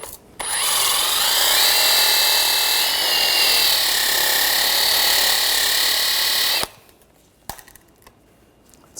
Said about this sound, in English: I'm just using a wire brush, just clean up some of the rust.